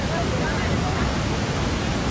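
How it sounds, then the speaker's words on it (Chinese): A waterfall at a scenic area, heard close as a dense, steady roar of rushing water filling the whole short stretch without a break. "我们上瀑布的上游去看一看"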